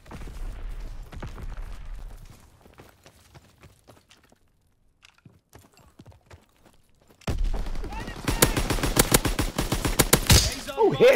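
Rapid automatic gunfire in a shooter game: after a quieter stretch of footsteps and scattered sounds, a loud burst of closely spaced shots rattles in fast succession to the end, with a voice speaking over it.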